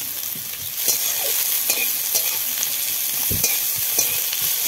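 Chopped onion and green chilli frying in mustard oil in a hot kadai, a loud, steady sizzle broken by occasional spatula strokes and scrapes, with no one talking.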